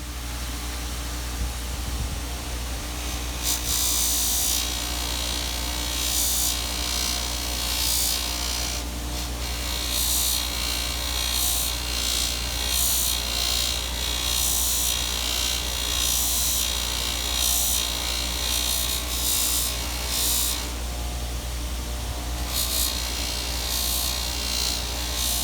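A spinning buffing wheel works a brushed-finish brass Zippo lighter, giving a steady close whir and rasp with rhythmic surges as the lighter is pressed on and lifted off.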